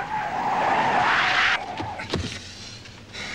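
A truck's tires skid and screech through a sharp turn, a loud, sustained squeal lasting about a second and a half before cutting off, followed by a few softer bumps and rattles.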